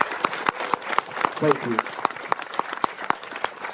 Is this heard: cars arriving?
no